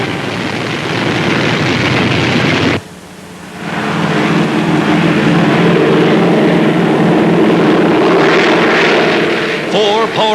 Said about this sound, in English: Four powerful engines lift the Sky Giant aloft.